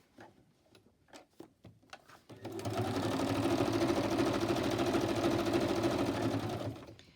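A few sharp ticks and clicks come first, then a sewing machine runs in one steady, close buzzing burst of about four seconds as it stitches a magazine-paper pocket, stopping cleanly.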